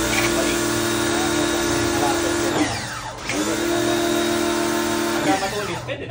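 A powerful pressure washer runs loud and close while cleaning a mossy floor, its motor whining in a steady tone that dips in pitch twice before recovering, under a continuous spray hiss.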